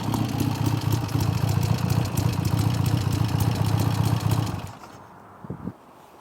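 A 1977 Triumph TR7V Tiger 750 motorcycle idles close by with a lumpy, rhythmic clatter, then the engine cuts off abruptly, leaving near silence and a couple of soft knocks.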